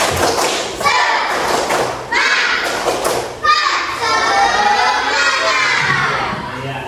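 Schoolchildren in an Indonesian classroom clap in unison for a morning spirit cheer, sharp rhythmic clapping bursts mixed with shouting voices, loud and close, alongside a teacher's speech.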